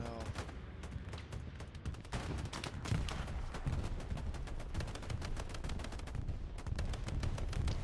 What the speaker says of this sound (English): I know there's a bombing run going off